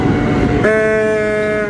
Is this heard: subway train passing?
yes